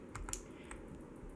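A few quiet, crisp clicks of keys pressed on a computer keyboard for a shortcut, close and faint, in a short run over a low room hum.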